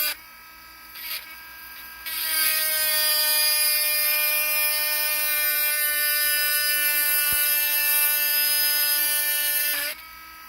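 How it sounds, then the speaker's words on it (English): A small powered polishing tool works on a CL lock driver pin, giving a steady, loud high-pitched buzzing whine that starts after a couple of brief bursts and runs for about eight seconds before cutting off. "I think we can probably polish off a little bit right now."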